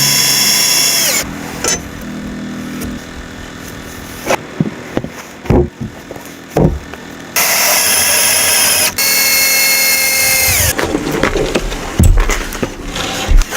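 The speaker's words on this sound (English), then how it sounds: "He cut special interlocking joints called notches into the ends of each log." Chainsaw cutting interlocking notches into the ends of logs for an off-grid cabin in snowy Alaskan wilderness, loud whining bursts that start and stop repeatedly, with short pauses and sharp knocks between cuts.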